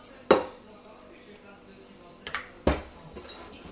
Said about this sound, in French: Je vais prendre un fouet.